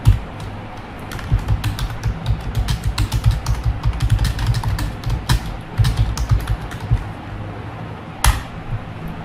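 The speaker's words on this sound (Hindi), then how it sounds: "ये कुछ नंबर्स हैं जो आपको हर नंबर को कम से कम 3 लाइन टाइप करना है।" Numbers typed on a computer keyboard during typing practice, a steady stream of quick, close key clicks with irregular rhythm and a brief sharper tap near the end, alone without talk.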